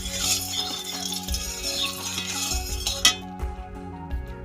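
A spoon stirs oil in a hot kadai for a kundri and potato posto curry, with scraping and metallic clinks against the pan throughout, sharp knocks near the end.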